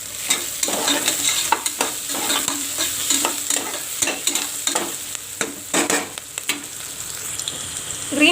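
Green chillies sizzle in hot oil in a pan while a spoon stirs them, with steady frying hiss broken by repeated close scraping taps of the stirring for the whole stretch; no one speaks.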